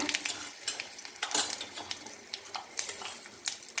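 Urad dal, mustard seeds and dried chili fry in a pan for cauliflower poriyal, with a soft sizzle under repeated metal stirring clinks and scrapes close by.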